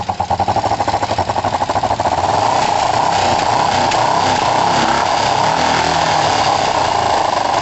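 Kawasaki ER5 motorcycle engine running as it warms up, close and loud, with a fast, even pulsing beat at first that settles into a smoother, steady drone.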